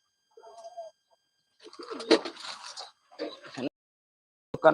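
Pigeons in a loft give a few soft, low coos at the start, followed by bursts of rustling and flapping close by and a sharp scuffle at the end, with no talk.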